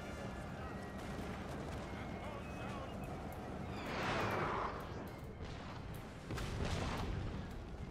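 Distant cannons boom in a couple of heavy bursts amid a constant battle din in Napoleon: Total War's Battle of Lodi, with voices murmuring underneath.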